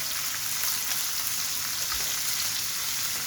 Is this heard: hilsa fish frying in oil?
yes